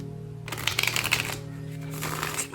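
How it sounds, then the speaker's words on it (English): A Crow Tarot deck of oversized, slick cards being shuffled, a soft riffling flutter of cards up close that comes in two short bursts over a quiet background. "I love shuffling this deck."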